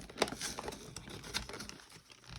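Cardboard packaging on a Marvel Legends toy is torn open by hand in a quick series of ripping and crinkling bursts, close up, with uneven pauses between pulls.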